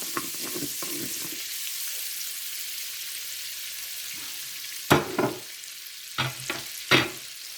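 Ingredients get stirred in a pan of olive oil, with a low steady sizzle underneath and several distinct scraping strokes of a spoon, heard alone.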